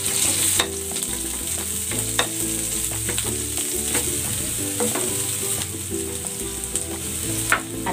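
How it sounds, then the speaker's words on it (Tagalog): Garlic sautéing in a frying pan, a loud close sizzle with busy stirring clatter and spatula knocks throughout, no voices. "Magigisa na ako ng bawang."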